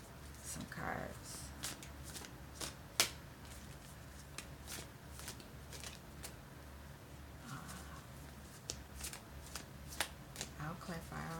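Tarot cards are shuffled close up, a continuous papery riffling with sharp slaps and taps, running under quiet speech.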